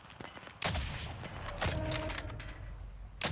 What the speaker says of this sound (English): Okay, he's trying to wallbang.